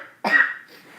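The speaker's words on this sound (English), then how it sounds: "Sorry about that, coughed again." A single sharp, close cough bursts out abruptly and fades within half a second in an otherwise quiet room.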